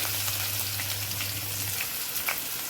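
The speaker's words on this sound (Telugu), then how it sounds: "ముందుగా ఉల్లిపాయలు వేసుకుందామండి" Chopped onions fry in a pan, giving a steady crackling sizzle with scattered pops and a low hum beneath, with no talking.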